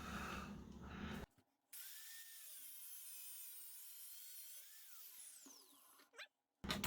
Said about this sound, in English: So the best way is with a grinder.